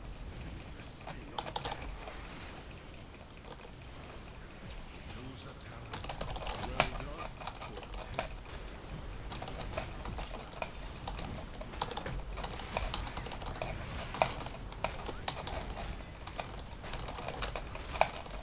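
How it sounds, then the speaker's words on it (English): Steady computer keyboard typing during a Heroes of the Storm gaming session: a dense, continuous patter of close key clicks with occasional sharper taps standing out, lasting throughout. "Typing."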